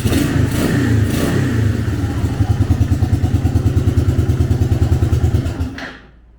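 The single-cylinder engine of a 1987 Suzuki LT300E ATV idles close by with a fast, steady chugging pulse and some clatter, then cuts off near the end.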